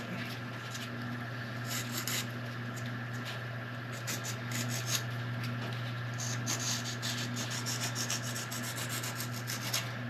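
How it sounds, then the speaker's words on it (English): Reel seat edges sanded with 100 grit sandpaper wrapped on a block, a steady, close rasping rub that continues without pause over a low constant hum. "I'm just gonna sand it down, get any of the rough edges off of it."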